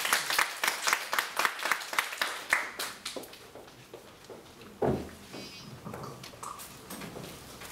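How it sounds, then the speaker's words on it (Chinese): A church workshop audience gives a round of applause: a brief burst of many hands clapping that thins into scattered, separate claps with a few small knocks and shuffles, fairly close, with no voices over it. "我们先再次用掌声谢谢好曾弟兄"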